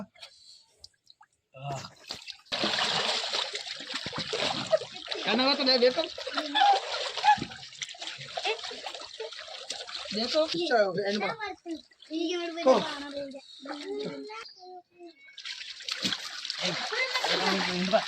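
Salt water of the Dead Sea splashes and drips as people play in it, with broadband splashing bursts throughout and a voice and other talk mixed in.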